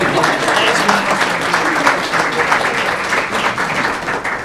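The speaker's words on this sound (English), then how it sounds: "You never have too much applause, right?" A board of education meeting audience gives sustained applause, a dense, steady wash of many hands clapping at once, loud and close, with a faint murmur of voices beneath.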